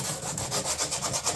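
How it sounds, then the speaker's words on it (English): Sandpaper scrubs back and forth across a fiberglass door panel being repaired, a steady, close, rhythmic rasp with quick strokes and no talking. "I call this just giving it a safety sand"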